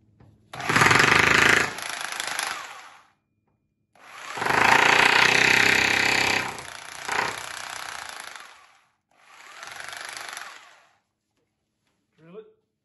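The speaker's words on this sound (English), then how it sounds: "just take your drill" Loud bursts of a hammer drill grinding into concrete, three long runs separated by pauses, close and harsh.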